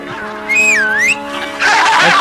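Someone whistles a clear rising-and-falling tune in a lively comedy sketch, loud and close over a steady background hum, followed by a burst of noisy sound.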